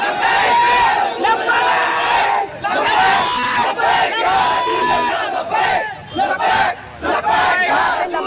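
A large crowd during unrest in Nagpur chanting slogans over and over, loud massed voices in repeated rhythmic surges with brief dips between phrases.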